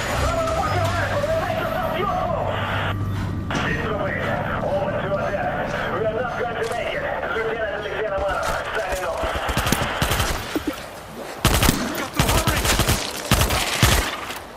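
Gunfire in World War Z, a dense rattle of automatic shots with scattered heavier reports building toward the end, under ongoing speech and game noise.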